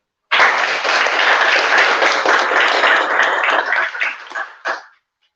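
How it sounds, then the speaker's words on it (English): Audience at a gallery talk applauds a speaker: a loud, dense, sustained round of clapping that starts abruptly, holds for about four seconds, then thins out and stops. "Please give a huge round of applause to Mona."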